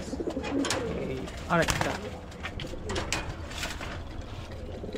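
Pigeons coo in a busy bird market at Mirpur, Dhaka, a soft rolling call rising once near the middle over a steady crowd hum, with someone talking briefly nearby.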